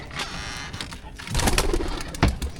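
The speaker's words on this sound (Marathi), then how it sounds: "इथे कबूतर आहेत" Pigeons gathered close by coo softly against a noisy, busy background, with a few sharper bursts of movement.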